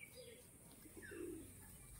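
Pigeons at a loft with grain scattered for them, including double-bar mushki birds, give soft low coos and faint chirps under a steady background, with no talking.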